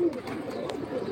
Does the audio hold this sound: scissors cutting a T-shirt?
no